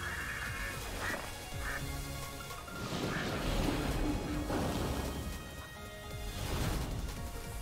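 Duck quacks from wildlife in World of Warcraft, several short calls recurring across the stretch over steady game ambience and background music, with occasional thumping impacts mixed in.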